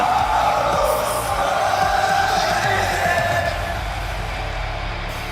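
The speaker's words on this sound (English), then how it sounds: "Crowd singing along to his theme." An arena crowd at a televised wrestling event sings along to a champion's entrance theme, making a loud, dense wash of voices with cheering that stays steady throughout and fades only slightly near the end.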